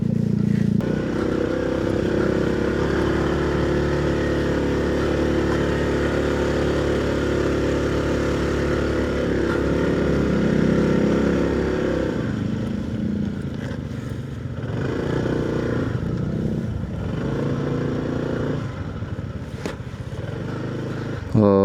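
A motorcycle weighed down with a heavy camping load rides toward a campsite at Bukit Saung Geulis, Puncak, its engine droning loud and continuous throughout with shifting pitch and road rumble.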